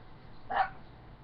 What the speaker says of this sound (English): Sounds like your dog agrees with me.